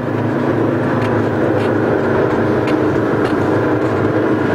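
An off-road vehicle drives with the differential locked, its engine held at high, steady revs in a constant loud drone with faint clicks and knocks from the drivetrain.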